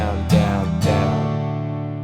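Acoustic guitar strumming the chord progression of a song, two firm down strums ringing out into a sustained chord, close and alone.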